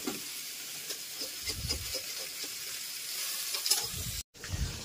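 Fish frying in hot oil, a steady crackling sizzle with bursts of spattering, heard close and alone with no talk.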